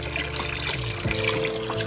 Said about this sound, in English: I'm just cycling the water through the pump and the hose